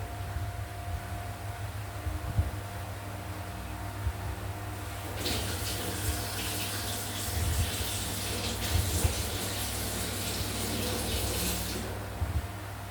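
Tap water runs steadily into a home sink as a face is rinsed after a homemade facial, a continuous splashing rush that starts midway and lasts about seven seconds before cutting off, with no talking over it.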